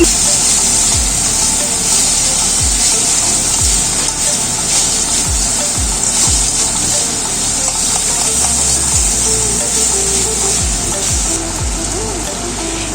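Keema paratha filling of minced chicken with chopped coriander frying in a pan: a steady, close, loud sizzling hiss with occasional low knocks and thumps underneath, and no talking.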